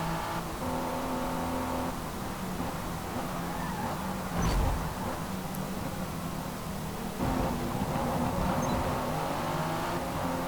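Twin-turbocharged V6 race car engine in Forza Motorsport 6, a steady droning engine note under racing ambience, with brief surges of revving and a couple of sharper bursts as it accelerates.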